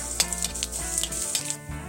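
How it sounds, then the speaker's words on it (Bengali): Dry red chilli, bay leaf and cumin seeds sizzle in hot oil left from frying prawns for a prawn malai curry, giving a steady crackling hiss with small pops. "তেজপাতা, জিরে ফোড়ন দিয়ে দেবো।"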